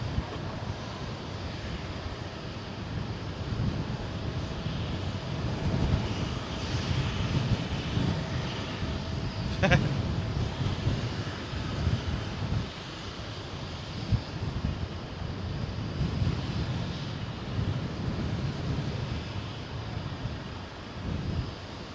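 Jet airliners arriving and departing at London Heathrow at dusk on a windy evening, a steady broad engine roar sustained throughout with gusting wind buffeting the microphone.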